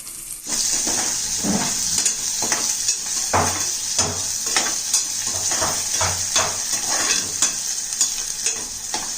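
Carrots and mixed vegetables frying in a pan for a curry, with a steady loud sizzle under repeated scraping stirs of a spatula against the pan throughout.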